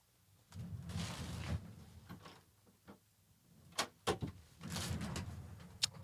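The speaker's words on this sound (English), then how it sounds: "He's pawing at the door as cats do." A cat paws and scratches at a door, giving scattered soft scrapes, taps and knocks of the door against its frame, irregular and fairly faint, heard nearby with no talking.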